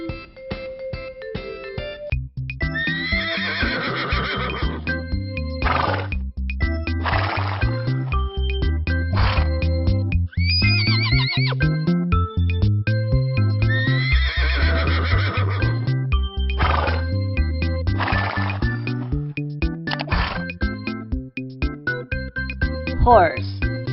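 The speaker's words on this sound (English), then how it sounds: "Horse." Horse neighing in a children's farm-animal lesson, with repeated whinnies over a backdrop of bouncy music, some possible clip-clop, and short spoken words between them.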